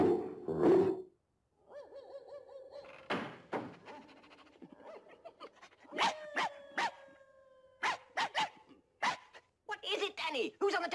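Dogs in the animated film One Hundred and One Dalmatians bark in quick, sharp bursts, sparse at first and then in a dense run of repeated yaps, mixed with cartoon voices talking.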